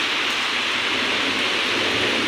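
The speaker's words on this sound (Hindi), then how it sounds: "बहुत तेज बारिश होने लग गई है।" Heavy rain pouring down steadily as a storm breaks, a dense, even hiss of water that stays loud and constant throughout, with no voices.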